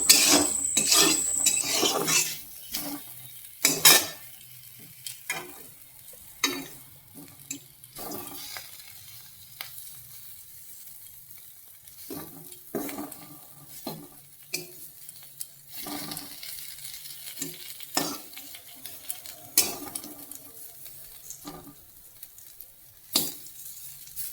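Sliced bitter gourd frying in a pan, with a steady close sizzle and hiss broken by repeated sharp scrapes and clatters of a spatula stirring against the metal, loud at the start and then continuing more evenly without talk.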